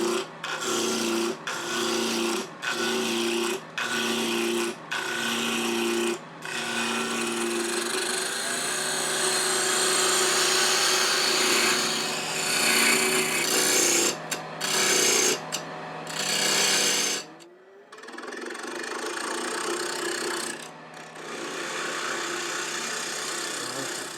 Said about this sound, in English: Let's go ahead and get it round. Let's use a bowl gouge for that.